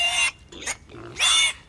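A pig grunts and squeals in three close, harsh bursts, loud and near, with short gaps between them.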